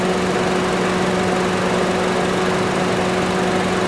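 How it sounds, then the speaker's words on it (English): A 1.8 liter engine in a 2010 Honda Civic with automatic transmission idles close by, a loud, steady drone with a constant hum and no change in speed, with no voices. "As you can hear, we have an excellent running 2010 Honda Civic."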